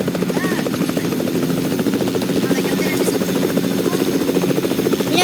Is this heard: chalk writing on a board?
no